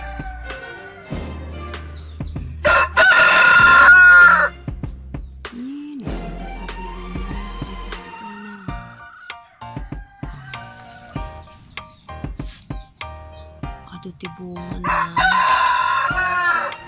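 A rooster crows loudly and close several times, long drawn-out calls separated by quieter stretches of farmyard sound.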